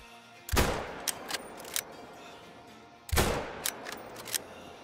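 A .338 Magnum bolt-action rifle fires at bighorn sheep about 400 yards away in the hunting game Call of the Wild: two loud, sharp shots a few seconds apart, each followed by a rolling echo and faint clicks.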